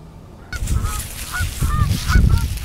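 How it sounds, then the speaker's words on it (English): A pair of geese honk repeatedly in a freshly mowed sorghum field, several clear, nasal calls close by over rumbling outdoor background noise. "That pair of geese is in the sorghum I just mowed."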